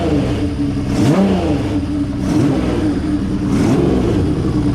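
A Honda CBX1000 six-cylinder motorcycle with a Moto Martin 6-in-1 exhaust revs loudly and close, blipping the throttle three times in a rising, falling whine over a continuous engine drone.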